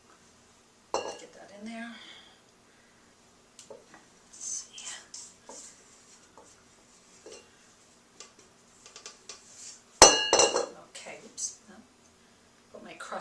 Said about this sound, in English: See if I can scrape it down a little bit to get all the excess.